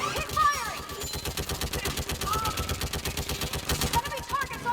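Rapid automatic gunfire rattles on without a break in a combat video game, loud and close, with shouted voices and a few electronic chirps mixed in.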